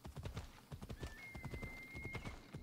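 Horse hooves clip-clopping in Assassin's Creed Odyssey, a steady rhythmic trot of close, distinct hoofbeats with a brief whinny partway through and no talking.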